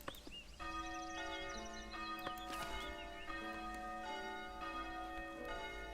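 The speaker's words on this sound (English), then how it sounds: "how about we just enjoy our church by ringing the bells" Church bells in the video game Foundation ring out in overlapping, sustained tones, a steady resonant peal with struck notes layering over one another, with faint birdsong and no talking.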